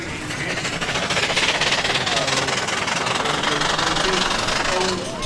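An old green steam engine owned by a Birmingham firm creeps past at a Taunton steam rally, its loud chugging and clanking mechanical rumble close by and continuous.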